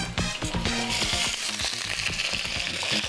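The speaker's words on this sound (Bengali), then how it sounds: "আলুটা ভেজে নেবো।" Potatoes fry in hot oil in a studio kitchen pan, a loud dense close sizzle with quick crackles and spatula clatter throughout.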